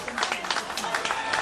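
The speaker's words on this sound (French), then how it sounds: "Applaudissez Bethel de la Coude." A crowd at a school contest final in Saint-Marc claps continuously, a brisk patter of many hands, moderately loud and steady over a short stretch.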